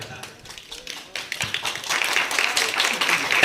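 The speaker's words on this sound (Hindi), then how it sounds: "ताली बजाने की जरूरत नहीं है बेटा" An audience claps at a patriotic Hindi speech about the tricolour flag and India's soldiers, starting as sparse taps and swelling into fuller, denser applause toward the end.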